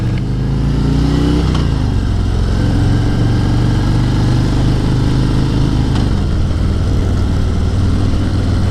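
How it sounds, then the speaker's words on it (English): Steady, loud engine drone from a 2019 Harley-Davidson Road Glide with the 114 engine while riding, its low rumble shifting pitch as the throttle changes through a corner, with wind noise and no talking. "I can tell this engine has a lot of power."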